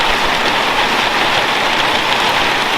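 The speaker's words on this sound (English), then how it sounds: "now we have a bit of rain to go with it" Steady, heavy rain during a wet-season thunderstorm, a loud, constant hiss of drops pattering on surfaces nearby with no pauses.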